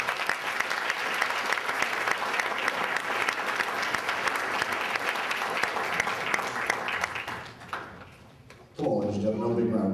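Wedding guests at a reception break into loud sustained applause for about eight seconds, dense clapping that dies away, followed by a voice speaking over a microphone.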